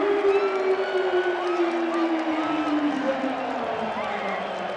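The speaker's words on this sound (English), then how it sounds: "the whistle blows, crowd starts cheering" A crowd at an NCAA college wrestling championship match cheers and whoops steadily after the whistle, a loud, dense roar with a voice carrying over it.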